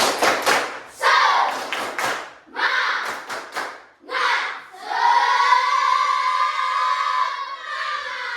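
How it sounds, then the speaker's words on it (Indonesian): A class in an Indonesian school lesson performs a rhythmic spirit clap, with several quick groups of sharp, patterned claps. The claps end in a long, loud group shout that is sustained and held together. "Tepuk semangat."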